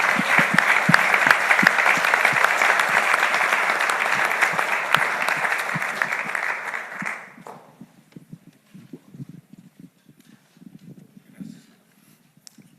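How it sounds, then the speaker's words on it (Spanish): An audience at a business event in Monterrey breaks into loud, dense applause for about seven seconds, then it fades to scattered claps and room noise. "Un aplauso para todos ustedes."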